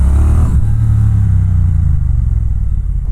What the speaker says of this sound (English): Bonneville Twin does seem to have some extra bass and boom to it